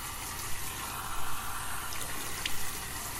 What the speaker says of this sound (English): I like warm water, so I'm letting my water warm up.